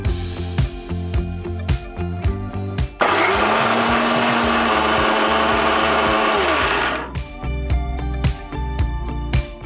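Roasted rava for laddu is ground in a mixer grinder in a loud, steady whirring burst of about four seconds, set between stretches of rhythmic tapping beats.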